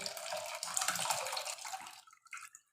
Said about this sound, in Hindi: अब इसको 2-3 दफ़ा पानी में डाल के और इसे ऐसे करके निकालते जाएंगे